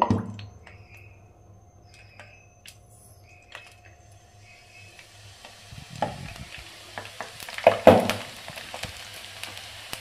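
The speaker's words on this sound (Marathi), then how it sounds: "आता आपण तेलात शेव पाडून घेऊया।" Potato bhujia sev pressed from a mould into hot oil, starting quiet and building to a crackling, bubbling sizzle with a few sharp pops near the end, close by and with no voices.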